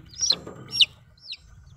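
Sharp, high chick peeps in quick bursts over low hen clucking, close by and fairly quiet, with a short pause before a softer final chirp.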